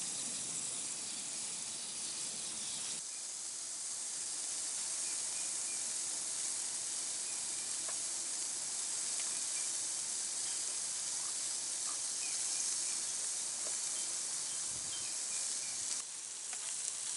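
Carne asada sizzles on a Pilot Rock Park Model grill outdoors, a loud, steady, hissing crackle with a few faint clicks and a brief shift partway through.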